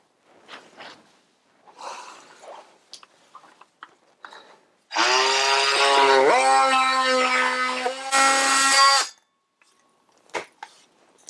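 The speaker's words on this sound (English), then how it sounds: "I'm just going to use my oscillating saw." An oscillating saw cutting during a garbage disposal installation, one loud close whining burst of about four seconds that shifts pitch partway through, set among quieter handling noises.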